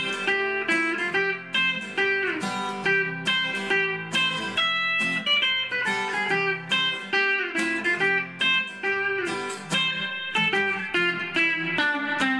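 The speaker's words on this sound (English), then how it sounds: "So I'm gonna tune it real quick" An electric guitar is tuned in fast-forward, with quick repeated plucked notes and strums following one another in a rapid, clipped rhythm, bright and clear with no talking.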